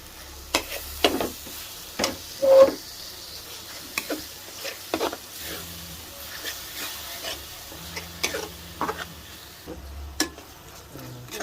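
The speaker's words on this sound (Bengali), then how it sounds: "মশলাটা কষানো হয়ে গেছে প্রায়, এখন আমি দিয়ে দেব" Tomatoes go into a pan of frying spice paste for a fish curry. A soft sizzle runs under intermittent scraping stirs and clinks of a spoon against the pan, fairly quiet and close.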